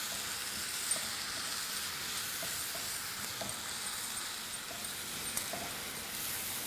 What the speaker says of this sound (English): Next, we're going to add our onion paste. Going to make it lightly brown, not too much.